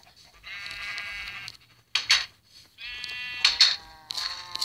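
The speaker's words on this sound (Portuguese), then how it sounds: "de onde que tá vindo essas ovelhas, velho?" Sheep in the Minecraft video game bleat in several separate calls, clear and fairly close, with short gaps between them and no talking.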